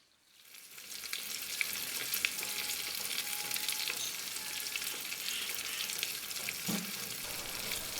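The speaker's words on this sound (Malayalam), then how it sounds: "അപ്പോൾ ഇനി നമുക്ക് ഫ്രൈ ചെയ്യാനായിട്ട് ഇടാം." Tilapia pieces coated in Kashmiri chilli and cornflour frying in hot oil, a dense steady sizzle that swells in within the first second and then holds loud and continuous, close up with no voices.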